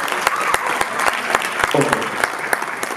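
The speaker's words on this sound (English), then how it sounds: "That deserves a round of applause." Audience applause during a speech at a university event at UNILAG, a lively crowd clapping with sharp, distinct individual claps standing out over the general roar, loud and near.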